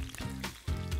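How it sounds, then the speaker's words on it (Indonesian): Chopped chili and spice paste fry in hot oil, a soft sizzle with a few low bubbling pops, faint and close. "Kalau menggoreng bumbu harus dipotong-potong dulu supaya nggak terlalu meledak ya."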